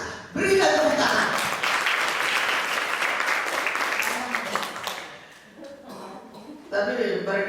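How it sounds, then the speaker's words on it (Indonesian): Audience at an Indonesian Pemuda Pancasila organisation meeting in South Jakarta breaks into loud, dense applause that holds for several seconds, dips briefly, then swells again, with voices speaking over it. "Berikan tepuk tangan."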